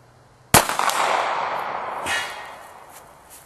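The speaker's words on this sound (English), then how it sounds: "65 yards with a Kel-Tec 380." A single Kel-Tec .380 pistol shot cracks sharply, followed by a long rolling echo and a faint metallic ring from a steel pepper popper hit at 65 yards outdoors.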